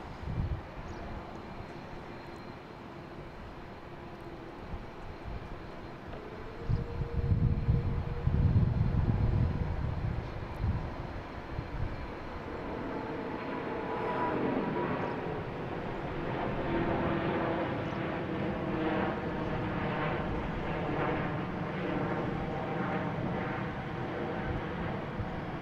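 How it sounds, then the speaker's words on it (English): Swiss Airbus A350-900 jetliner at Boston Logan International Airport, a broad steady engine roar with a louder rumbling surge partway through, then a sustained whining hum, heard from a distance without talk. "we have Swiss heading to Zurich. A350-900, flight 55."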